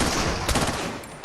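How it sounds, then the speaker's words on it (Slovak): Rapid gunfire from a weapon in the VR shooter Crossfire: Sierra Squad, a dense, loud continuous burst with a sharper cluster of shots midway, no talking. "dá sa s tým takto strieľať, alebo takto"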